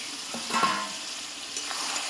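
Garlic and potato drop into mutton frying in a pan, giving a soft steady sizzle with a couple of brief stirring clinks and scrapes, quiet and close.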